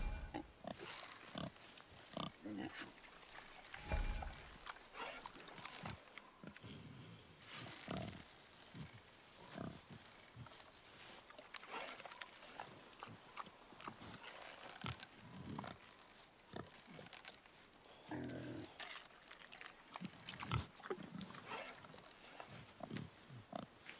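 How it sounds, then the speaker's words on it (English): Wild boar in the God of War video game gives repeated grunts and snorts across a busy stretch of game audio, mid-loud, with bursts of effects and scuffling. "The wild boar's hide is thick."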